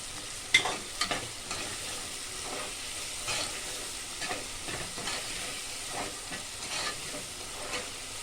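Tomatoes and onions fry softly in a pan for tomato rice, giving a faint, steady sizzle. A few light scrapes and knocks from stirring stand out near the start.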